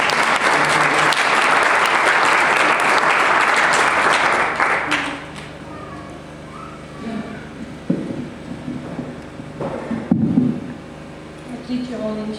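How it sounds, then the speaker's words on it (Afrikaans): Hearty clapping from a church congregation at a service, loud and dense for about five seconds before thinning out, followed by scattered voices and movement in the room. "Jy kan vir haar lekker hande klap gee"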